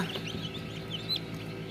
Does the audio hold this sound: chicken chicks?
yes